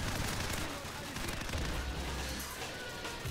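Dense gunfire in Call of Duty 4 Modern Warfare team deathmatch, continuous crackling shots and rumbling blasts that fill the whole moment at moderate loudness.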